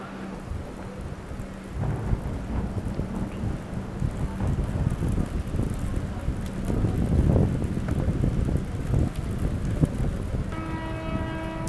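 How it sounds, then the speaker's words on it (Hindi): Light rain falls steadily at a railway station, heard from under a shed as a constant soft hiss with low rumbling and a brief tonal sound near the end. "हल्की हल्की बारिश जो है वो शुरू हुई"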